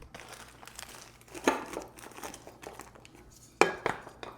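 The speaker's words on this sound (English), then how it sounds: "Got to get this twisted shut and a twisty put on it before it starts to dry out." Plastic bag of brown sugar being twisted shut in a home kitchen, with quiet rustling crinkles throughout and two sharper crackling bursts close by.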